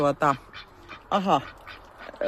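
A pet duck, shown as a backyard bird alongside chicken keeping, gives a few loud, close, nasal quacks in two bursts, with quieter calls between them.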